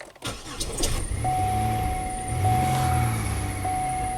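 A Buick V6 car engine cranks briefly and catches, then settles into a nice steady idle with a faint whine running over it. The engine sounds close and fairly loud, with no talking.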